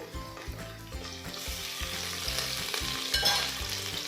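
Ginger garlic paste sizzles in hot oil with sliced onions in a pan for pudina pulao, a steady close frying hiss with a few soft stirring scrapes and no voices.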